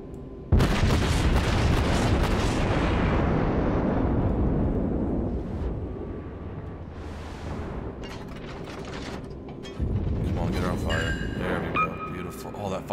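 Heavy naval guns boom from the German battleship Tirpitz in World of Warships, a loud opening blast rolling off into a long rumble, with further firing and game effects later and a voice talking over it.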